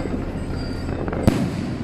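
One sharp, loud firecracker blast cracks out against a steady rumbling crowd backdrop at Penang's Dou Mu Gong temple during the Jade Emperor's birthday celebration on the ninth day of Chinese New Year.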